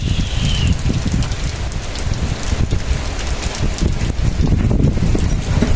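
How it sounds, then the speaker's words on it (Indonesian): Strong gusting wind at a forest hut roars continuously into the microphone with heavy low rumble and a dense, rain-like patter throughout, close and loud, with no voices. "Waduh, gila anginnya."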